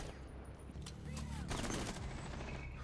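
Gunfire in Rainbow Six Siege, a dense burst of shots and impacts mid-round, loud and close, with players talking over it.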